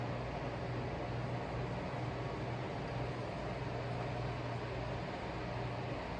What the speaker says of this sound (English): Sorry that the fan is going.